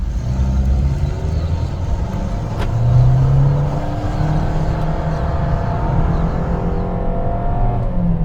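A Fiat Strada Ranch 1.3 CVT double-cab pickup pulls away at full throttle from rest, its engine droning loud and steady with a rising, continuous tone typical of the CVT, no voices over it.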